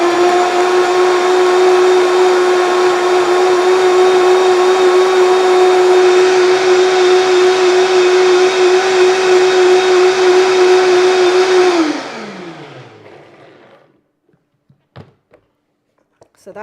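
Blender whizzing a vegan basil lasagne sauce, a loud steady motor whine for about twelve seconds that then spins down, followed by a few faint clinks.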